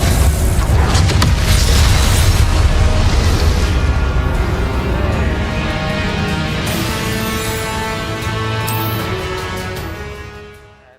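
Spells such as Incendio and Confringo in the Hogwarts Legacy video game set off a loud, continuous wash of booming magical blasts and crackling bursts, layered thickly over one another before fading out at the very end.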